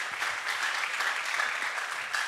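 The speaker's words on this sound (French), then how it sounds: "Applaudissez s'il vous plaît." Audience applause from a live crowd, a steady wash of clapping throughout at moderate loudness.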